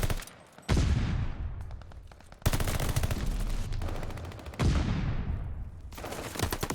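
Bursts of rapid automatic gunfire from a competitive online shooter match crackle in quick volleys, each burst trailing off before the next, fairly close and punchy, with no talk over them.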